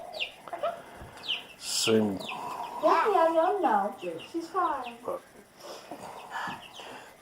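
Chickens in a pasture give short clucks and bird calls close by. A cat is also present. People speak over the calls throughout.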